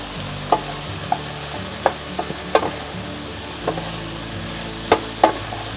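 Garlic, garam masala and chili frying in a pan for butter chicken, a soft steady sizzle under several sharp clinks and scrapes of a utensil stirring against the pan.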